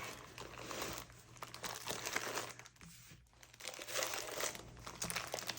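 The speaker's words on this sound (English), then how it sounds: "I'm going to get it out of the crinkly plastic." Crinkly plastic wrapping handled during an unboxing of a leather item, a soft, close rustle and crackle that goes on throughout with small tearing-like bursts, fairly quiet overall.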